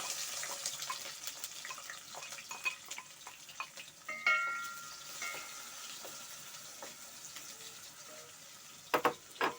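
Onions fry in a pan with a soft, continuous sizzle broken by crackles and light clatters of stirring, then a few louder clinks near the end.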